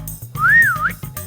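A person whistling a short gliding tune that rises and falls over about half a second, close and clear, between soft background noises.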